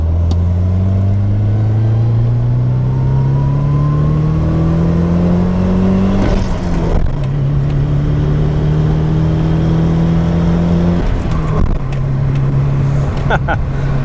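A 1990 Nissan 240SX S13 with a swapped SR20 engine revs up hard through the gears, rising in pitch, dropping at each shift, then climbing again; loud and close, like riding inside.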